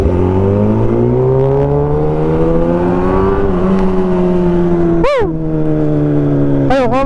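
Motorcycle engine droning steadily while riding, loud and close with slowly rising pitch as it speeds up, then a brief drop and a couple of quick throttle shifts near the end, with wind rush underneath.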